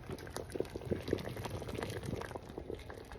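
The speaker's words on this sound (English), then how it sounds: "So this is the soup. It's boiling." Vegetable soup boiling in a pot, with steady bubbling and small pops rising close by at a moderate, even level and no talk over it.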